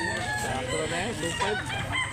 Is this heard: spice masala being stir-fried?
no